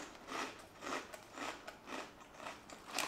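Crunching on Trader Joe's Superior Crunch pizza-flavored snacks, with about five evenly spaced crisp bites or chews sounding up close and alone, no talking.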